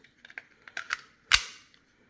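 An unloaded Kel-Tec P32 pocket pistol with an empty magazine makes a series of small mechanical clicks up close, ending in one sharper, louder snap of the action.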